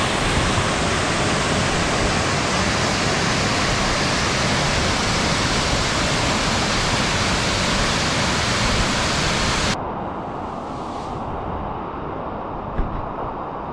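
Manneera Waterfalls at Konni Eco Tourism in Pathanamthitta roar with a steady, loud, close rush of falling water, softening slightly in the last few seconds, with no voices.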